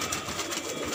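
Pigeons in a new loft in Dholpur, Rajasthan give a soft, brief coo, close and steady with no talking.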